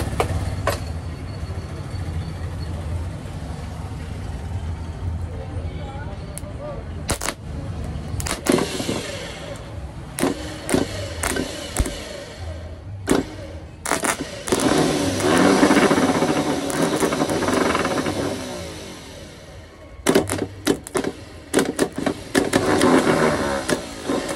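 A Mahindra motor running steadily with a rough mechanical drone and knocking, broken by sharp clanks and tool noises, then swelling louder and busier mid-clip.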